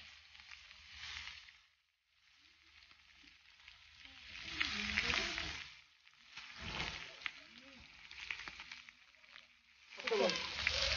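Pomfret and prawns fry on a pan in a village kitchen in Alibag, a close, crackling sizzle that rises and falls in bursts with short quiet gaps, while faint voices talk in the background.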